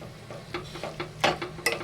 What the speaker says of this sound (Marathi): हे बघा असं परतत परतत असं बारीक करायचं